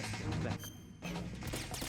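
Dense, loud gunfire from the PS2 video game Metal Gear Solid 2: Sons of Liberty, a near-continuous barrage of overlapping shots with a brief lull midway before the firing resumes.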